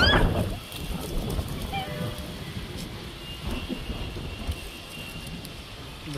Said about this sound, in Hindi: गाइस, आंधी आ चुकी है